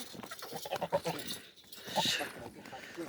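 Goats on a goat farm bleating a few times amid people talking nearby, the animal calls brief and mixed into the conversation.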